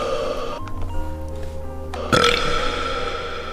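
A loud, drawn-out burp rumbles low for a couple of seconds, followed by a sudden, harsher burst partway through, with no talking over it.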